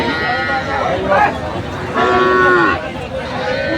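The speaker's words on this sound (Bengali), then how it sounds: "আমরা দেখছি এখানে একটি গরু চমৎকার" Cows and calves of a local dairy breed moo at a Saturday cattle market in Dinajpur, with two long loud moos close by amid constant crowd chatter and talk.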